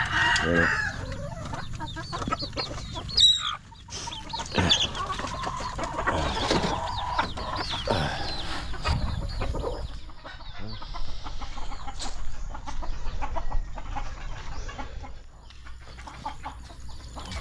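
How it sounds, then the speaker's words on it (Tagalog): Hens cluck nearby as a rooster crows several times, with a brief voice and some rustling mixed into the farmyard noise. "Ito mga manok na taski."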